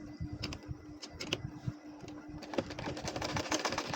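A domestic sewing machine stitches a baby nakshi kantha quilt, its needle rattling in a quiet, fast mechanical chatter with a faint steady hum underneath, the pace shifting slightly as the fabric is turned.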